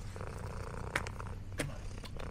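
A cat purrs close by on cold outdoor steps at a farm, a steady low rumble running through the whole clip, with a couple of brief sharp noises breaking in.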